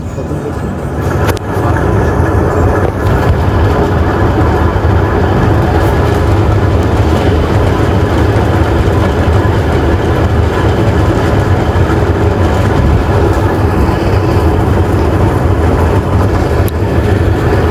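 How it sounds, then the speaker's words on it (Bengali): A train pulls into a station, a steady loud rumble that rises in the first two seconds and then holds, broad and continuous, with no talk over it. "ওই তো আমাদের ট্রেন চলে আসছে গাইস।"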